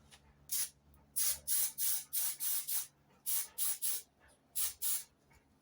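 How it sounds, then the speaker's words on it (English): Spray glue applied to a foam piece in short repeated bursts, about a dozen close, loud hissing sprays with brief pauses between, during a 1970 MGB GT heater box build. "put a bit of spray glue on that."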